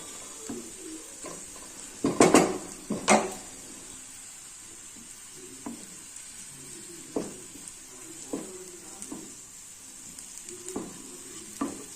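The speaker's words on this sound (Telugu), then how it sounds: "మనం అన్ని పనులు చేసుకున్న వరకు ఇక్కడ ఉల్లిగడ్డ ఉడుకుతుంది" Onion cooking in a pan on a low flame, a soft steady sizzle with a sharp hiss and several light scraping stirs, fairly quiet throughout.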